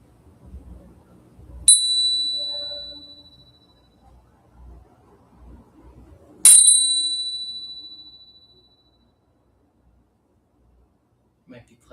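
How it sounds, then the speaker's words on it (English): A mindfulness bell is struck twice, several seconds apart, each strike a bright, clear ring that lingers and fades slowly; quiet talk comes before the strikes. "I'll ring the bell next."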